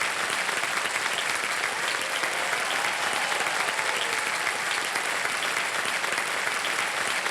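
Studio audience applauds steadily on the KBC Season 15 game show set, a dense, sustained clapping that holds at a constant level for the whole stretch with no talking over it.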